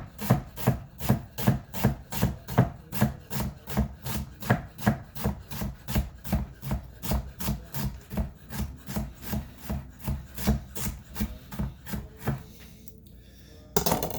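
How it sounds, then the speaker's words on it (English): A knife chops food into small pieces on a board in a steady, fast rhythm of about forty close, loud strikes, pausing briefly near the end before a few final cuts. "We got that all chopped up nicely."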